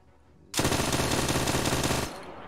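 Rapid automatic gunfire in a video game bursts in suddenly and rattles continuously for about a second and a half, loud and close, then cuts off into quieter background noise.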